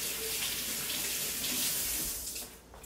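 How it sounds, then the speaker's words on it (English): Tap water runs steadily into a kitchen sink as hands are rinsed beneath it, a close, continuous splashing hiss that tapers off near the end. "now I think what I would do with this is maybe rinse my hands off"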